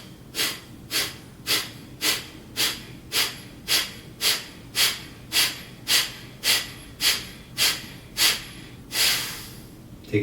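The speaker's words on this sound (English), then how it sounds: "So you just simply exhale." Forceful exhales in a hatha yoga breathing exercise, about fifteen sharp, rhythmic puffs of breath at a steady pace, close and clear, with a longer breath near the end.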